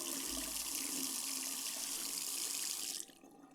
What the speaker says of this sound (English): We always have them wash their hands.